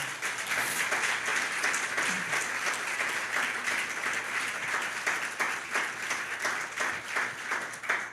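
A church congregation gives a loud, sustained round of applause during a Father's Day service, dense steady clapping filling the room for the whole stretch with no one speaking over it.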